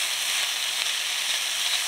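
Peppers and chopped tomatoes fry in a pan with a steady, loud, close sizzle that hisses continuously without pause or talk.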